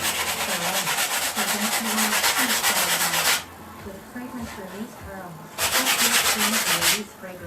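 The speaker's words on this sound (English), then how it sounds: "you take your sandpaper again, your 320 grit, and just go over it" Sanding acrylic paint on a canvas with 320-grit sandpaper: rapid, close, rhythmic scratchy strokes in two bursts with a quieter pause between, while someone talks over them.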